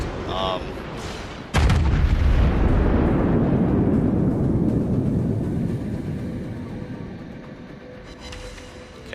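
A battleship's big guns fire a thunderous salvo in World of Warships, setting off a deep, booming blast followed by a long rolling rumble that slowly fades, with someone talking briefly beforehand.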